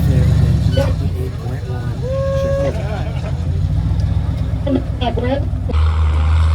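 Engine of a big M-715 wrecker truck driving off-road, a loud low rumble that shifts pitch as it works, with people talking over it and a deeper surge near the end.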